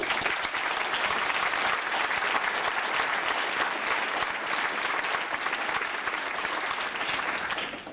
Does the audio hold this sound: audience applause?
yes